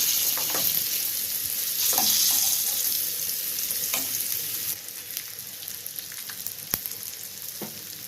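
Eggs frying in masala in a pan for egg biryani, a steady close sizzle with occasional stirring scrapes and small pops, with no talk over it.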